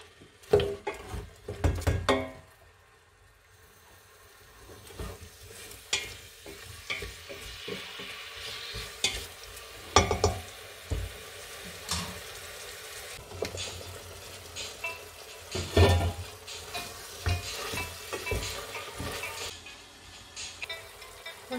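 Couscous with raisins being stirred in a pan, with repeated scraping and clattering strokes and a soft sizzle underneath, close and fairly loud with irregular bursts of activity, no talking.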